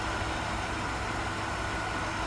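A stock 5.7 liter V8 in a 1996 Chevrolet Impala SS idles steadily, a dense low rumble holding at constant loudness throughout with no voices.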